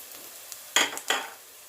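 Ground turmeric, cumin, coriander and Kashmiri chilli powder fry with spring onion greens in a pan. A faint sizzle sits underneath two sharp, close scraping stirs in quick succession.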